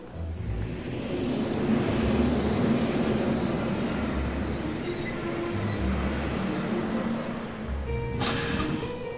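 A train in the video game The Legend of Heroes: Trails of Steel rumbles along steadily with wheel and rail noise and thin high squeals, ending with a brighter burst of sound near the close.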